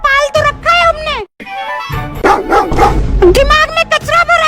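A dog yips and barks in quick, high bursts at the start and again near the end, loud and close, mixed with people talking.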